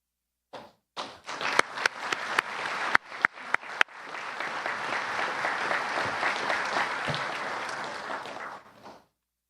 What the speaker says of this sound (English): Let's give all of our promotional folks a big round of applause there